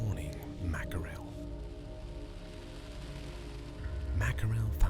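Steady rain falls on a Norwegian mountain top as a soft, even hiss, with brief rustling or handling noises near the start and end.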